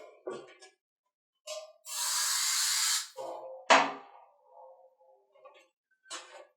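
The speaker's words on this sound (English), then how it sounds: "give it a quick spray of 3M adhesive" A single steady hiss of 3M spray adhesive from an aerosol can lasting about a second, close by, with a few soft handling knocks and clicks before and after.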